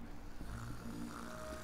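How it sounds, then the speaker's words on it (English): In the video game Nelly Cootalot, a conch shell snores with low, rumbling, drawn-out breaths over a muffled game background. "That conch shell seems to be snoring."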